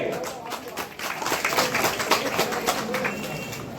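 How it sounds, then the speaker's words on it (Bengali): An audience at the Manikpur Hilsa festival gives a burst of outdoor clapping, a dense patter of many hands that sits under crowd noise and talking. "জোরে একবার হাততালি দিন সবাই মিলে"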